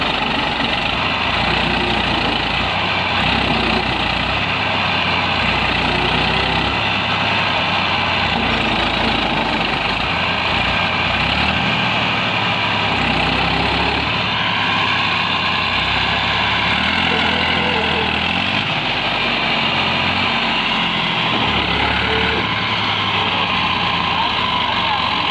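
A tractor engine strains hard in a Pakistani village, the machine stuck and unable to pull free; a loud, dense, unbroken rumble fills the whole stretch with little change.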